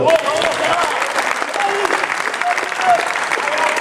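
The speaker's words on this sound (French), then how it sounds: "Allez, on peut l'applaudir." A crowd at a football club event applauds a player, a loud, continuous burst of clapping with a faint whistle and some murmuring voices mixed in.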